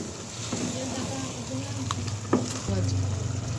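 Korma being sautéed in a pan, wedding-feast style, sizzles and crackles steadily with scraping stirs and a few clanks of the spoon, a voice speaking briefly over the cooking.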